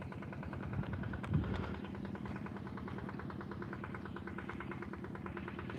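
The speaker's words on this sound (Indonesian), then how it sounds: "Ada ini mesin desal ya buat tarik air dari sini buat mengairi sawah ya" A diesel water pump drawing water to irrigate rice paddies runs as a steady, throbbing engine drone with an even mechanical pulse, fairly distant and continuous, with a brief louder knock near the start.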